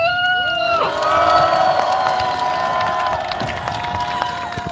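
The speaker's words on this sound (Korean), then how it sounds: "다같이 박수!" A crowd at a public talk breaks into clapping mixed with cheering and high drawn-out shouts or whoops, lively and close throughout.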